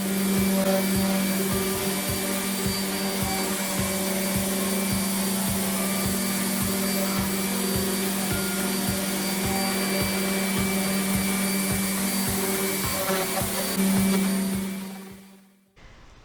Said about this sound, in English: I used my 120 grit on my orbital sander and just took that surface down.